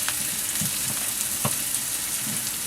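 Pork and courgettes stir-frying in a pan, a steady loud sizzle throughout with a few brief clicks and scrapes from stirring, no talking.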